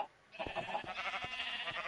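A Minecraft sheep gives a short bleat over a soft game background, followed by a few fainter repeated bleats.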